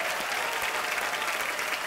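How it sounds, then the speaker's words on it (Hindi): An audience claps loudly and steadily for a guest on a celebrity show, a dense wash of applause filling the whole moment with no voices over it. "सर के लिए एक बार जोरदार तालियां हो जाए।"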